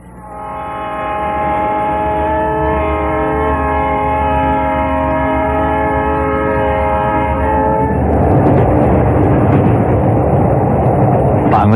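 A train roars loudly along a rural railway, its steady rumble and a long sustained horn filling the scene before the horn drops away into broadband rolling noise.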